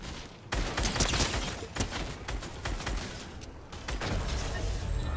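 Rapid bursts of gunfire crackle in a Fortnite match, clustered shots and sharp impacts following one another over about five seconds at moderate distance, with no talking.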